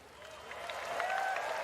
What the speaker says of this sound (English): applause if you want it